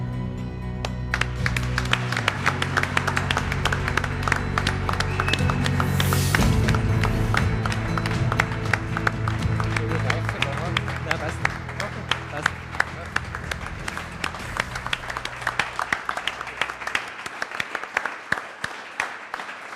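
A crowd at a production-start event applauds the first H-Series 3-cylinder 3H50 TIC engine, with sustained, dense clapping close by and voices mixed in.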